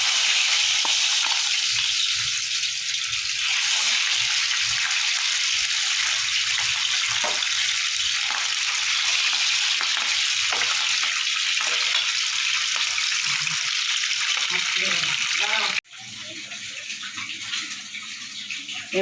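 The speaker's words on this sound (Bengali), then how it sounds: "মাছটা এবার আমি ভেজে নেব। তেলটা আমার গরম হয়ে গেছে।" Rohu fish frying in hot oil, a loud steady hiss and crackle filling the whole stretch near the pan, abruptly dropping to a quieter sizzle near the end.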